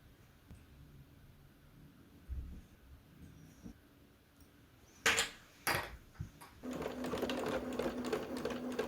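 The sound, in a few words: sewing machine sewing a straight stitch on a tote bag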